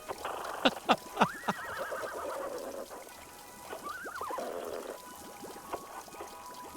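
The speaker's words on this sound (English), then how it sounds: "Random horse noises?" Two drawn-out horse whinnies with wavering pitch, set among a few sharp clicks and a low watery background, in the video game Wanderstop.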